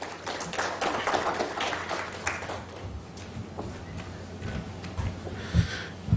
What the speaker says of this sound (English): Please welcome him with a round of applause, Mr. Shiv Kumar Bhasin